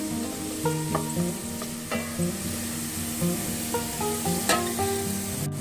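Onions for beresta frying in hot oil, a steady sizzle under a musical background with occasional stirring clinks, moderately loud and close.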